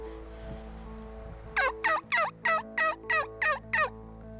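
A wild turkey gobbles in a rapid series of about eight warbling bursts, fairly close and clear over a quiet background hum.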